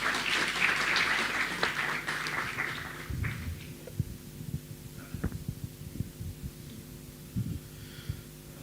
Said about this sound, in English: Can we have a huge round of applause for them once again?